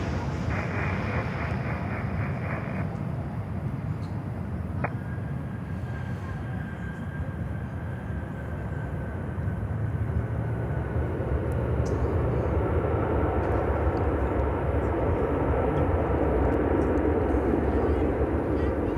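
An Atlas Air cargo jet landing on runway 8 at Miami airport, a broad roar of jet engine noise building and swelling toward the end, heard at a distance with people talking over it.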